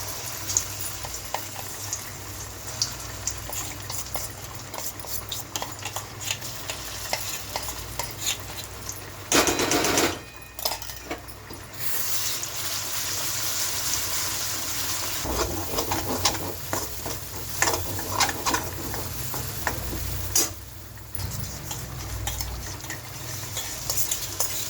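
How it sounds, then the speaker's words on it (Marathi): Wet spice masala paste fries in hot oil in a kadhai with a steady, close sizzle, while a utensil stirs and scrapes against the pan throughout, occasionally louder. "तो आपण आता कढईमध्ये तेल तापलंय त्याच्यामध्ये टाकायचं आहे।"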